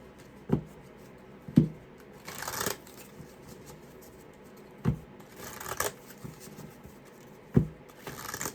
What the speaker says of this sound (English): I'm going to shuffle this deck a few times.